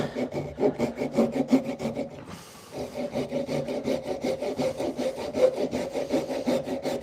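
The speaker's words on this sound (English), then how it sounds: "This little pull saw," A small, cheap Japanese-style pull saw cuts split chestnut wood for a gate latch with quick, rhythmic rasping strokes. The sawing is close and clear and stops for one short pause partway through.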